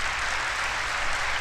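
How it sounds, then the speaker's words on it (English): Applause fills the chamber during a State of the Union address, a dense, even wash of many hands clapping at moderate distance, broadcast without talk. "Oh, that was a pussy clap there, Pence."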